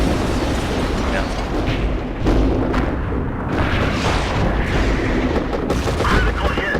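Artillery shells burst around a tank in a World of Tanks-style game, a loud continuous rumble of booms and blasts that keeps on with no pause, overlaid with some talk.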